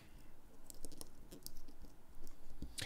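Rapt Lite fidget clicker fitted with medium magnet inserts, crunching in a series of quick, close clicks with irregular rhythm, alone and with no talking.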